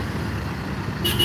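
An intercity bus sits in a traffic jam at Bulak Kapal, Bekasi, under a steady low engine rumble, and a short, bright horn toot breaks in near the end.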